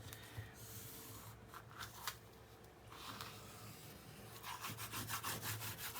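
Tape being burnished down on a paper mini album with a bone folder, soft rubbing strokes in short bursts, close and quiet, with faster scraping passes toward the end.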